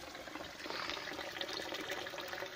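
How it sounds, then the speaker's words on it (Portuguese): Tap water runs steadily in a continuous trickling stream, fairly quiet and close, with no one speaking. "Continua a ver a aguinha da torneira."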